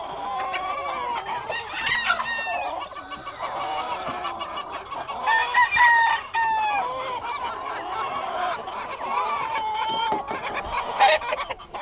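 A crested rooster, a young bird still short of full plumage, crows and clucks close by in a busy poultry yard, with several overlapping crows and clucks from other fowl layered throughout.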